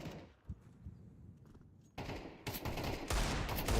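Pistol and Tec-9 fire crack from a Counter-Strike match, starting sparse and distant, then breaking into a dense, loud burst of rapid shots over the last two seconds.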